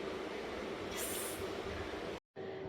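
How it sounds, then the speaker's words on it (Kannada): Steady rumble and hum inside a moving Bengaluru Namma Metro train, with a faint high squeal partway through and a brief cutout near the end. No voices. "ಸೊ ನಾನು ನಮ್ಮ ಮೆಟ್ರೋ ಹೋಗ್ತಾ ಇದ್ದೇನೆ"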